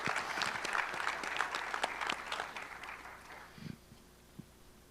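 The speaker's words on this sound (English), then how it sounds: "Can we give them all a round of applause, please?" An audience at a Joint Base San Antonio military retiree gathering gives a round of applause, a full, dense burst of clapping that fades away after about three and a half seconds into near quiet.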